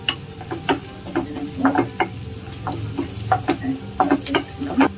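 Onions, crushed garlic, curry leaves and green chillies frying in a pan for a fish or mutton kulambu, with a soft sizzle under repeated spoon taps and scraping stirs in an irregular rhythm, no talking.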